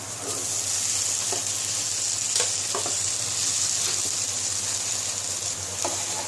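Cut tapioca being fried in a pan for a Kerala recipe, a steady bright sizzle with occasional clinks and scrapes of stirring.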